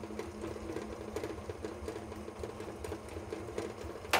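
An electric Vevor honey extractor spins honey frames with a steady, droning mechanical whir and faint rattle. It stays constant throughout, with a brief louder bump at the very end.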